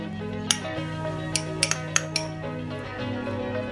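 Spoon clinking against a bowl while sambal matah is stirred, with a few sharp metallic taps scattered over a steady background hum and no talking.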